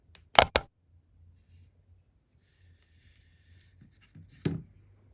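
Scissors or snips cutting the tag end of fishing line while spooling a reel: two sharp, close clicks right at the start, quiet handling after, then one more soft snap near the end.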